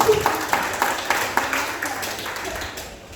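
A church congregation claps in a steady rhythm, a string of sharp, evenly spaced claps that fades slightly over a few seconds with no voice on top.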